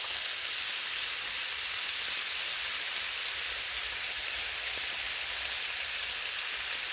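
A thick slice of ham sizzles steadily on a Blackstone griddle, a continuous bright frying hiss that stays even and fairly close throughout with no voices.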